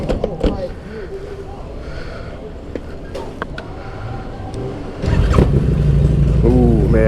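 A 2017 Harley-Davidson V-Rod Night Rod fires up about five seconds in and settles into a loud, steady, close idle rumble, with someone talking before it starts.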